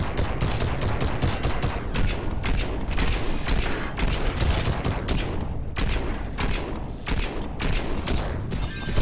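Dense, rapid gunfire from double revolvers in the video game Armored Head, a continuous barrage of loud shots with heavy impacts and explosions layered throughout.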